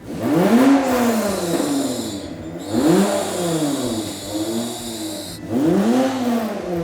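A car engine revs hard in three rising and falling surges as exhaust flames are triggered, loud and close with a whine over the roar.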